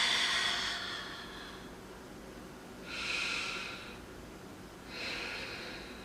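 Slow, deep yoga breathing during a plus-size, wrist-free session for strong knees: three long audible breaths through the nose with quiet gaps between them, close and soft, no talk.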